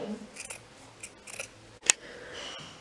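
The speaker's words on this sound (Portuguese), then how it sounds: "E eu vou cortar isso também," Scissors snip through knit fabric while customizing a swimsuit bodysuit, several quiet crisp cuts with one sharp close snap near the end, no talk.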